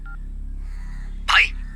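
A phone gives a short, sharp electronic call tone once, preceded by a faint brief beep, over a low steady hum in a Hindi-dubbed film scene.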